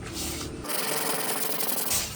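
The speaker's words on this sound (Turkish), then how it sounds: "Komple zımpara işlemi yapılacak." Steady abrasive rubbing, a continuous coarse scraping hiss that holds without pause, as sandpaper is worked over the body panels of a Volkswagen Golf 5.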